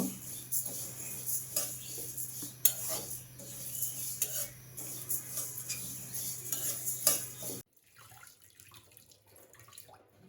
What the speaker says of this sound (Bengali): এখানে মুগের ডাল নিয়ে এলাম ডালটা প্রথমে ভেজে নেব